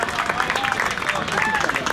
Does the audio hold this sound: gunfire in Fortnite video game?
no